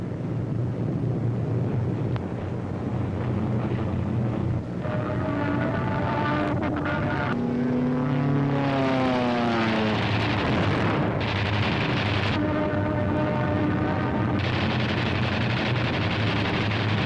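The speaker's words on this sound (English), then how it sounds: "German fighters attempting to intercept the heavy bomber attack are shot down by P-47s" WWII P-47 fighters and heavy bomber aircraft in flight, a loud continuous roar of engines with rising and falling whines as planes pass overhead, sustained throughout over dense rumbling noise.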